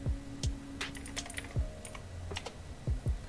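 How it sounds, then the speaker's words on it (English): Keys clatter on a computer keyboard in a series of quick, close clicks with irregular pauses between bursts, mostly alone in a quiet room. "So we can check by typing describe."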